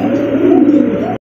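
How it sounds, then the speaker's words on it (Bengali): Pigeons for sale at a pigeon market coo in one loud, close, continuous throaty burst, then stop suddenly. "চলে আসলাম আরো এক পেয়ার কবুতর"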